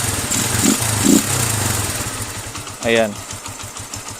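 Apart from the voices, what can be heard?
motorcycle engine idling with Nibbi 28mm carburetor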